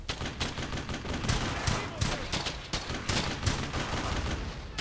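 Dense battlefield gunfire in the World War II shooter Brothers In Arms: Hell's Highway, overlapping rifle and machine gun shots cracking in an irregular rapid rhythm at moderate distance, with no talk.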